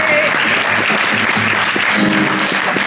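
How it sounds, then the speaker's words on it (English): Loud, dense audience applause fills the hall after James Dempsey and the Breakpoints play live at the Deep Dish Swift 2025 conference, a steady wash of many hands clapping close by. "Big round of applause."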